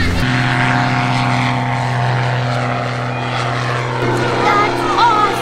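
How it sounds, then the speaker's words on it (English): A propeller-driven airplane close by, its steady engine drone with strong low harmonics running loud and continuous throughout, with people talking over it. "Hey, look, that plane just landed right there."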